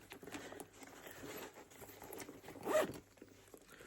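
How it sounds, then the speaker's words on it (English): A short zipper pull rasps close by on a tote bag's large zipped compartment, rising to a brief louder burst near the end, with faint rustling of fabric around it. "Let me just zip it for you."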